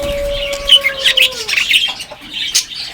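Frillback hagoromo budgies chirping up close, a steady stream of bright tweets and short calls with one longer whistled note at the start, along with some wing flutter.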